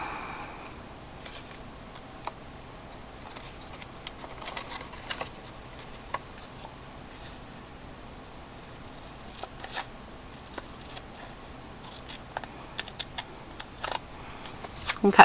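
Scissors snip through layered book pages in a quiet room, a scattered series of short, crisp cuts and paper rustles close by, growing more frequent toward the end.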